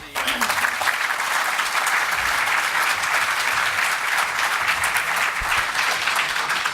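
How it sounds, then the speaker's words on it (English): An audience at a civic forum on the suburban pension crisis applauds the mayors, a loud, dense wash of clapping that builds quickly and stays full and even, with a faint voice underneath. "How about a round of applause for"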